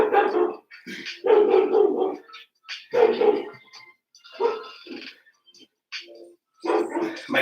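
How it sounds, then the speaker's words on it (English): Dogs barking outside a house, a run of loud, close, repeated barks in uneven bursts with short pauses and no talking. "My killer dogs are outside, protecting the house."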